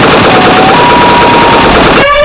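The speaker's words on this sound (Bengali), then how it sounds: "তুমি বাঘ আর হায়নার গায়ে গুলি চালাও" Cartoon machine-gun fire aimed at a tiger and a hyena, a loud, continuous rapid burst of shots lasting about two seconds before ending in a ringing tone.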